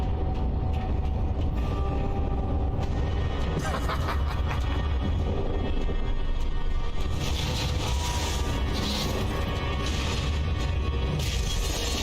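A train runs in the video game Alice: Madness Returns, a steady dense mechanical rumble and clatter with ratcheting, gear-like sounds continuing throughout at a constant loud level.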